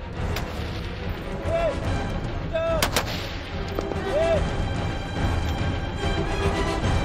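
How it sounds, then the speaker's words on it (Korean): UDT naval special forces fire guns from a ship's deck at a floating target several hundred meters away on open sea near the Gulf of Aden. A few sharp, loud shots crack over constant engine and wind rumble. "UDT 대원들 역시 배 위에서 사격을 가한다."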